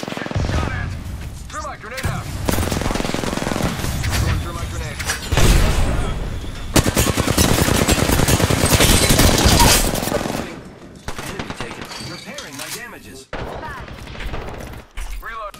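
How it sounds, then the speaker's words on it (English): Bursts of automatic gunfire in a first-person shooter video game, loud and sustained rapid fire with pauses between volleys, mixed with game effects and a player talking over it. "They're shooting at me."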